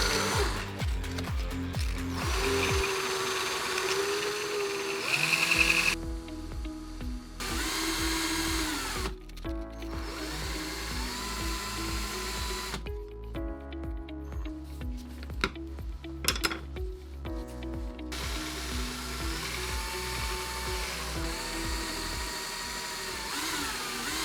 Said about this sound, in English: Just pinch lightly on the dowel with some sandpaper and you can turn it down pretty quickly.